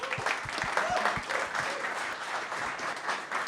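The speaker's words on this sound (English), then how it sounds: "let's give a round of applause for the Encrypt team" Audience applause for a student startup team at a venture deal-day event in Seattle: steady mid-level clapping from a crowd, with a few distinct nearby claps standing out early on.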